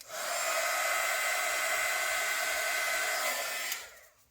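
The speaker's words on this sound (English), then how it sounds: "I'm just gonna heat it with the heat gun real quick." A heat gun blows hot air over a wooden coin charm coated in resin, a steady loud whirring hiss that runs for several seconds and then cuts off, with no talking.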